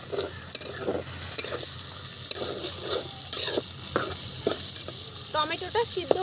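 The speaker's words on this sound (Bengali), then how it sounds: "সমস্ত কিছু 1 মিনিট নেড়ে চেড়ে এর মধ্যে অ্যাড করে দিচ্ছি টমেটো কুচি" Chopped tomato and bay leaves frying in a pan while being stirred, with a continuous sizzle broken by repeated scraping strokes and light metallic clinks of the spoon.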